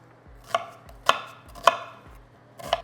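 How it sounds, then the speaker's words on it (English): A knife roughly chops a white onion on a cutting board, four crisp, evenly spaced knocks with soft slicing between them, close and distinct with no talking. "Cutting into this onion here, just gonna give it a nice rough chop."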